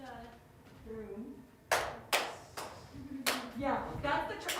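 Hand claps in a pass-the-beat circle game during a group rehearsal, several sharp claps at uneven spacing around the room, with voices talking and calling between them.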